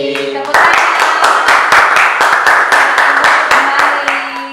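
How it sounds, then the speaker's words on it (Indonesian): A small classroom group claps after a student presentation, a loud run of distinct, rapid hand claps in an uneven rhythm following a brief voice. "Tepuk tangan."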